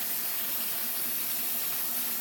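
Cold water runs from a tap down a slowly clogged sink drain, a steady close hiss of flowing water with no talk over it.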